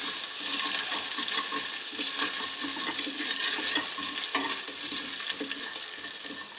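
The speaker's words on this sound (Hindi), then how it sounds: "अदरक को हम बहुत ही हल्का सा भूनेंगे" Grated ginger and cumin fry in a pan with a bright, continuous hiss and sizzle, stirred at close range throughout, with no talking.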